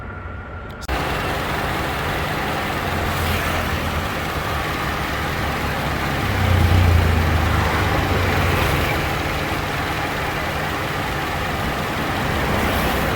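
A 1998 Honda Accord, recently showing a blinking key light from a low battery, starts up and keeps running with a steady low engine rumble, swelling briefly midway.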